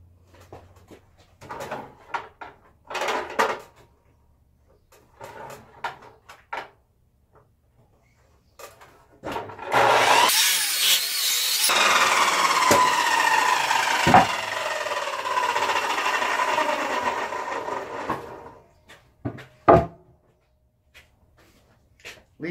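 A saw cuts a 10-foot wooden board in a workshop: scattered knocks and clatter, then about eight seconds of loud, whining cutting noise, followed by more sharp knocks.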